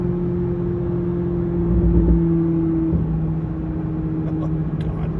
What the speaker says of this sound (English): What a fantastic exhaust.